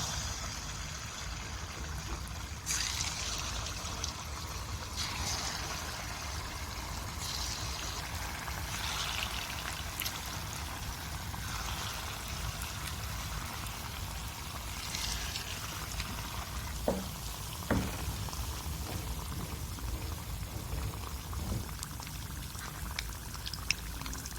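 Steady, soft sizzling and bubbling of sweet gulgule batter fritters frying in hot oil, with a few faint clinks partway through.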